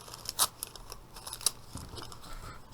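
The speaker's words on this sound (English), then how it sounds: "And what I'm going to do with this tissue paper is I'm just going to rip it up into pieces" Blue tissue paper being torn by hand into small pieces, a few short, quiet rips with two sharper tears standing out, close up and with no talking.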